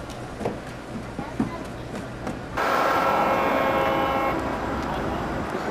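A scenic excursion train on the Oil Creek and Titusville Railroad in Pennsylvania, with a low rumbling ride that gives way to a loud, sustained horn blast lasting a couple of seconds near the midpoint, close by over the rolling train noise.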